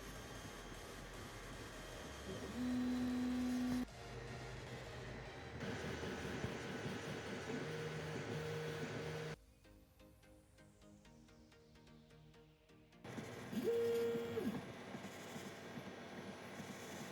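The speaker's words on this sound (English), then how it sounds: "we can head on over to the 3D printer." A 3D printer runs with quiet mechanical whirring, its pitched stepper-motor tones shifting from one movement segment to the next and pausing briefly in between.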